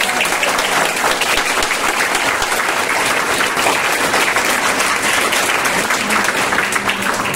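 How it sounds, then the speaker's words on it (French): A theatre audience in a packed hall claps loudly and continuously, a thick, even roar of many hands sustained for several seconds without a break. "je vais vous demander d'applaudir très fort."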